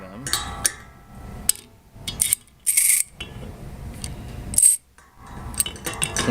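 Metal clinks and clanks from a 13mm open-ended wrench working on a 3-piece ball valve, several sharp bright hits and taps spread irregularly across a fairly close, quiet workbench scene.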